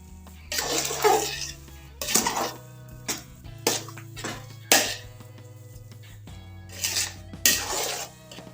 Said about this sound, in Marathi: वरून थोडस साजूक तूप आपण घालूया सर्व व्यवस्थित मिक्स करूया